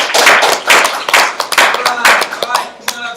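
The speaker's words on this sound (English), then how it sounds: "All right, so everybody give Dana a great round of applause." Audience applause in a conference talk setting, dense clapping in bursts across the whole clip, loud and close, with a few individual claps standing out as it tapers slightly near the end.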